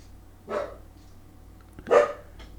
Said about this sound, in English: That'd be my dog barking